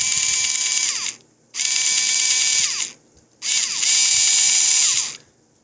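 A Union Pacific model train from Custom Power trains 2.0 whines loudly in three bursts of high buzzing gear and motor noise, close up, with short silent pauses between runs.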